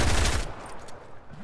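A pistol in the video game Fortnite fires a quick, loud burst of rapid shots, followed by a quieter tail after the shooting stops.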